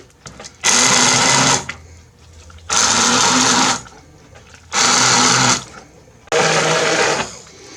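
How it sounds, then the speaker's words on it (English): An electric mixer grinder pulses four times to grind cooked dehydrated figs for jam, each loud, close roaring whir lasting about a second with short quieter gaps between. "Now we're going to use a inverter mixer, and we're going to grind it."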